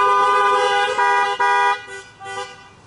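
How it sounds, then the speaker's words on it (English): Several car horns honk together at an outdoor drive-in church service, overlapping loud sustained blasts with short breaks, tapering off toward the end. "give me a honk."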